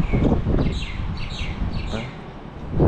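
Birds chirping at sunrise in Taiwan among city buildings, short repeated high tweets over a low rumble of wind and background noise, moderately close.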